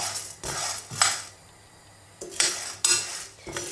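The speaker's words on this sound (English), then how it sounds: "I'm stirring continuously" Chutney powder ingredients with salt and asafoetida are dry-roasted in a pan while being stirred, producing bursts of loud metallic scraping and rattling against the pan separated by short quiet pauses, with no talking.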